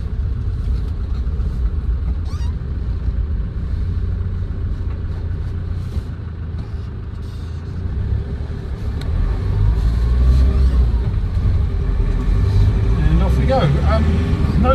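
A 2010 Land Rover Defender 90 County with a 2.4 TDCi diesel engine pulls away and drives, its steady low engine rumble building in loudness partway through as someone talks over it.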